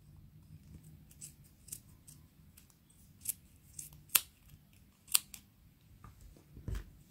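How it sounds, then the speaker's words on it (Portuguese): Scissors cut knitting yarn for a knitted slipper with a handful of crisp, close snips spaced irregularly over a quiet background, a couple sharper than the rest. "passo aqui com a tesoura, cortando toda esta parte"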